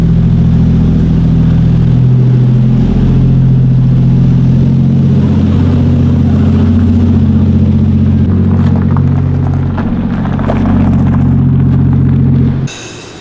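A Lexus IS300 car is lowered from a workshop lift, with a loud, steady engine-like mechanical hum and rumble running throughout that cuts off abruptly near the end.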